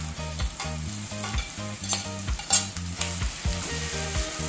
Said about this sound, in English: I will now go ahead and add the corned beef.